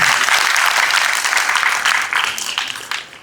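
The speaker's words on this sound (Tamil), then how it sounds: "கைத்தட்டிடலாம்." Audience applause fills a room at a yoga foundation's fifth anniversary event, steady and dense for about three seconds before tapering off toward the end, with no talk over it.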